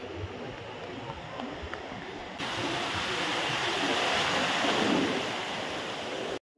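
Ocean surf washes onto Puri beach, a faint wash at first that turns into a louder, broad roar of breaking waves with wind buffeting the microphone, then cuts off abruptly.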